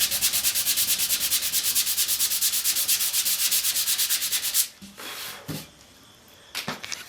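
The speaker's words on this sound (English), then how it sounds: "got a little piece of sandpaper here" Small piece of sandpaper rubbed back and forth on a wooden chair part during chairmaking, a fast, steady rasping stroke rhythm up close for several seconds, then stopping and giving way to a few soft knocks and handling sounds.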